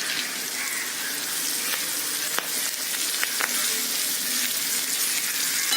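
Curry leaves frying in a pan for an orange peel puli inji, a steady bright sizzle with a few sharp crackles and pops standing out over the constant hiss.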